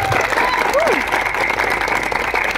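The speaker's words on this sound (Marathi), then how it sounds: "त्यासाठी जोरदार टाळ्या" Loud applause from guests at the launch party for the Marathi TV serial Constable Manju, a thick burst of many hands clapping nearby that runs the whole moment without letting up.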